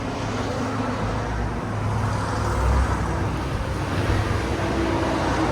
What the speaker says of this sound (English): Most of it is road noise.